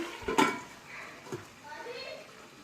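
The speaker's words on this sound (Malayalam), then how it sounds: "മൂടി വെക്കാം" A lid clanks down onto a pan of chicken frying for a smoked chicken fry, one sharp metallic knock near the start, followed by a softer clink and a low sizzle.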